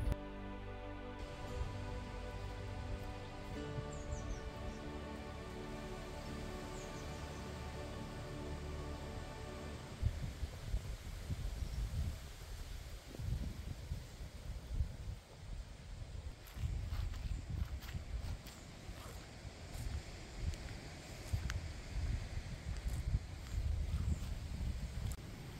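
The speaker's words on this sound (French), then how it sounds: "Énormément de vent en cette" Sustained roaring wind buffets the microphone with broad rumbling gusts, steady and loud throughout, with no voices.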